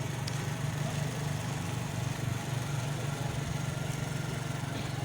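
A motorcycle engine idling and running steadily close by beside a river swollen by flooding, a continuous low chugging drone mixed with broad rushing noise throughout.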